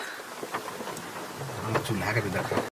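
Heavy rain pours outdoors at Burla Zero Point during an open-air chicken cook-out, a steady dense hiss with low rumbles and faint voices beneath.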